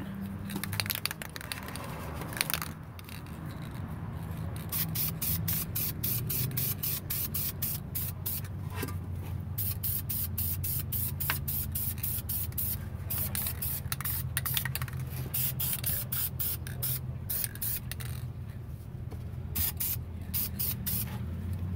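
Aerosol spray paint hisses onto car brakes for a second coat in rapid short bursts, close and fairly loud, with a faint rattle between the pulses.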